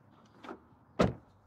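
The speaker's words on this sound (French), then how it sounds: "c'est le bruit de la porte." A Tesla Model Y car door is shut, a softer swish of movement followed by a solid, muffled thud close by.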